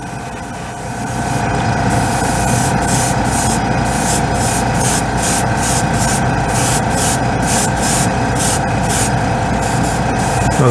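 Airbrush spraying white acrylic paint onto a scale model, a steady hissing spray with rapid on-off pulses through the upper range, over a constant low hum from a compressor, alone without talk.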